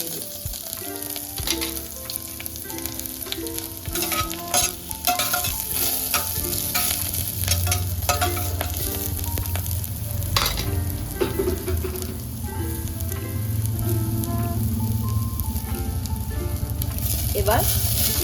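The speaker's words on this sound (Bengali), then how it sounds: "একটু রসুন দিয়ে দিলাম" Green chili and garlic sizzle and crackle in hot oil in a pan, a steady loud frying hiss with scattered pops and stirring clatter throughout, no voices.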